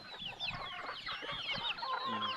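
Chickens cluck continuously at close range on a free-range farm, a dense overlapping flock of hungry birds with busy chatter throughout, some calls rising above the rest.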